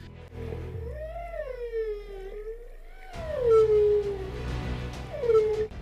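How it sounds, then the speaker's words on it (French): Humpback whale song: long, sliding moaning calls that rise and fall in pitch, one drawn-out call followed by another louder, rougher one, clear and close with no talk over them. "La caractéristique la plus fascinante de la baleine à bosse est ses chants."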